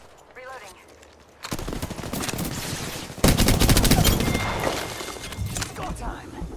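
Apex Legends gunfire cracks out in loud, rapid automatic bursts after a quiet opening, growing heavier partway through, with a voice talking over the shooting.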